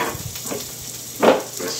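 Food frying in a pan for a chickpea curry gives a low, steady sizzle. A short, louder hiss flares up near the end, with faint stirring and pan sounds around it.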